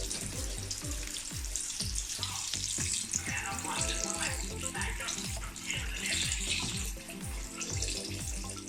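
Batter-coated poornalu balls fry in a pan with a continuous bright sizzle and bubbling, joined by short repeated tapping and clatter, close and moderately quiet throughout.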